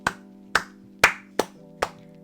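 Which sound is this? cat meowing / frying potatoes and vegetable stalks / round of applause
round of applause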